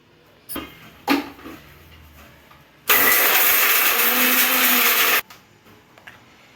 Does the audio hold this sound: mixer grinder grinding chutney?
yes